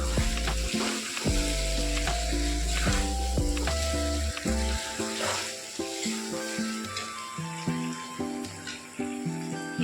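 Pork pieces frying in a pan for a pork curry, with a continuous loud sizzle broken by scraping and stirring sounds, and no talking.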